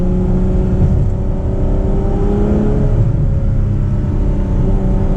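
Ferrari 812 Superfast's 6.5-liter naturally aspirated V12 revs hard and steadily, a loud, close, continuous engine roar with rising harmonic whine and deep rumble, no voices.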